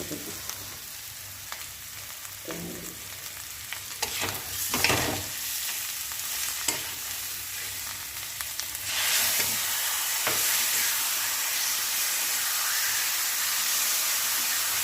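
Tomato puree sautés in hot oil in a pan for jackfruit kofta curry, giving a steady close sizzle and hiss that grows louder partway through, with occasional stirring scrapes and no talking.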